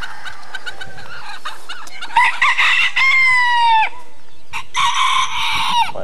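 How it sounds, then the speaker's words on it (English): Several white-laced red roosters crow one after another, loud and close, with long drawn-out calls among a flock of red hens and chocolate chickens that cluck softly between the crows. "got two reds in there, four more red hens, that's eight red hens and five roosters"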